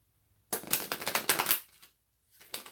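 A deck of cards shuffled up close in a quiet room, a dense burst of riffling flutters for about a second followed by a shorter second riffle, no voices.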